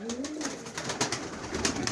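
Pigeons in a home pigeon loft coo softly and repeatedly, with scattered wing flutters and shuffling, fairly quiet and close, no talking.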